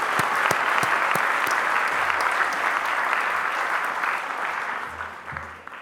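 A graduation ceremony crowd gives a final round of applause for graduates, a dense, even wash of many people clapping that holds steady and slowly fades over several seconds.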